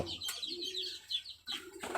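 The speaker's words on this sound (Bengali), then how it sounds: "এই যে দেখেন আমার কোয়েল পাখি" Quail chicks give short, faint chirping calls alongside native chicken chicks in a brooding area, with scattered thin peeps and a low background hum.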